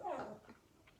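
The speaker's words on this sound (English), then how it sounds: "the neighbor dogs are up." Neighbor dogs let out a single short whining bark at a middle distance, fairly faint and quickly gone.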